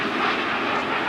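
A small display jet at the Culdrose Air Day carries out a barrel roll, producing a steady, moderately distant engine roar that fills a brief moment without any voices.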